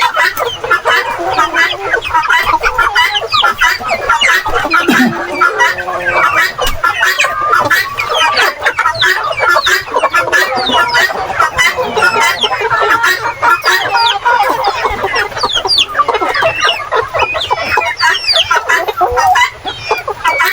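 Rhode Island Red heritage chickens on a farm, a flock clucking continuously and close by in busy overlapping calls, with a brief crow-like cry early on.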